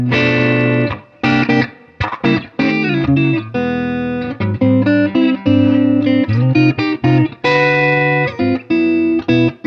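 An electric guitar through a Fender Super Reverb tube amplifier plays amplified chords and single notes in choppy bursts with short pauses between phrases, its tone warm and slightly gritty.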